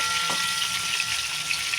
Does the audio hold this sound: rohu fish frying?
yes